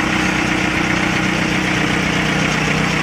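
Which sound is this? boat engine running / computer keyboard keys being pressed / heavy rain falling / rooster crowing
boat engine running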